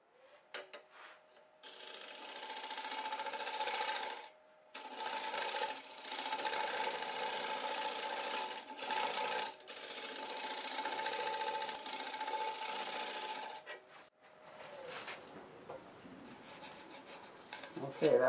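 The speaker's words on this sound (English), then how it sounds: "I'll just use the nose of the negative rake scraper to clean that little corner up there" A negative rake scraper cleans up a small corner of a lightning-struck pear wood turning on a lathe, giving steady loud rasping scrapes in several long passes with brief pauses, over the continuous hum of the running lathe.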